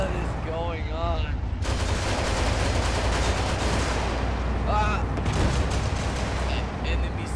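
Dense, sustained gunfire and heavy weapon fire in Arma 3 during a Russian tank battle, a constant loud barrage with voices talking over it in short bursts.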